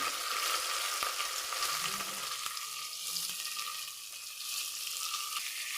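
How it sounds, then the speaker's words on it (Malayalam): Chopped onion frying in a pan for chicken biryani, a steady close sizzle with occasional stirring scrapes running the whole time, no voices. "ഇനി നമുക്കിതിലേക്ക് നമ്മൾ അരിഞ്ഞെടുത്ത നമ്മുടെ സവോള ചേർത്ത്"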